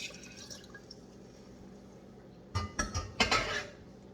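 Sweetened tea, brewed from tea bags, water and sugar, is poured into a container for kombucha. A quiet stretch gives way to a few loud clinks and splashy bursts of liquid, and no one talks.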